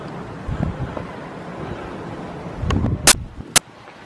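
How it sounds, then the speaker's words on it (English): Prayer flags in Nepal flap in a gusty wind, with buffeting rumble across the microphone and a couple of sharp cloth snaps near the end. "Prayer flags flapping in the wind."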